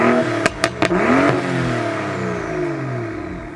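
BMW M135i LCI with 69,000 miles starting up: a few quick cranking bursts, then the engine catches and revs sharply, settling into a loud, steady warm-up idle close by.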